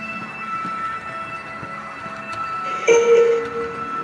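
An H0 model railway regional train pulls away with a steady mechanical hum and a rising metallic wheel squeal midway, close and fairly loud.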